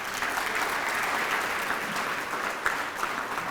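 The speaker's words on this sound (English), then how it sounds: "So that you can clap." Audience applause at a charity gala, a steady dense wash of clapping held at an even level throughout with no talk over it.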